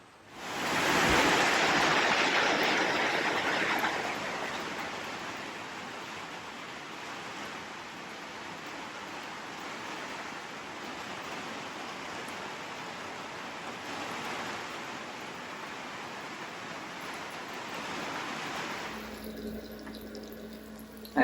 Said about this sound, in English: it's starting to rain heavy again